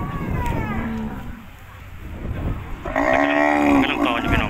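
Cattle at a livestock market in Thailand let out a loud, close, drawn-out moo over the last second and a half, following a stretch of murmured voices and general market bustle.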